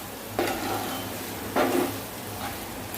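Beef liver, cooked Kashmiri style, sizzles steadily in a pan while a utensil stirs it in a few distinct scraping strokes. The sound is close and carries no talk.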